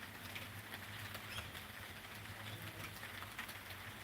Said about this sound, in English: Well, you can hear the rain now.